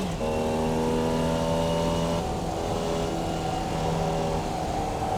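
A Formula Vee race car engine in iRacing drones steadily and loudly at a constant pitch, with a slight shift in tone midway through as the gearbox acts up.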